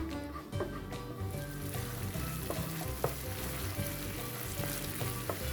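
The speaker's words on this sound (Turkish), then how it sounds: "Ve salçalarımızı biraz kavuruyoruz" Tomato paste fries in oil in a pan with a close, continuous sizzle, broken by occasional scrapes and taps of a stirring utensil.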